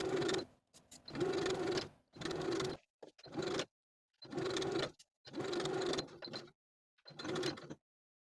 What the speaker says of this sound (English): we're going to sew with a 1/2 inch seam allowance first, backstitching to secure